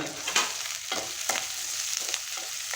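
Onions sautéing in sesame oil for a spicy onion chutney, sizzling steadily close by with repeated soft scrapes and stirs of a spoon through the pan every half second or so, no voices.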